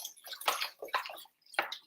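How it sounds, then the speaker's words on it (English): Beef broth pours into a pot of dairy-free keto hamburger soup while it is stirred, giving a few short wet sloshing and splashing bursts with a brief pause between them. "I'm kind of just stirring right where I'm adding in the broth"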